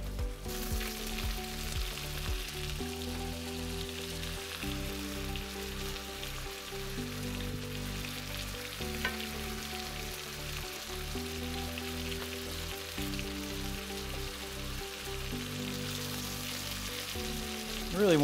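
Spiced chicken fries in oil in a pan, giving a continuous, even sizzle that holds steady throughout at a moderate level with no talking.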